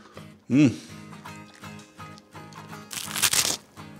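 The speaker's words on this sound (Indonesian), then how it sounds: "Sekarang kita tes kriuk dulu ya" Crispy Kanzler chicken nuggets are bitten in a crunch test, giving a sharp, close crackling burst near the end after scattered light handling noises and a brief vocal sound.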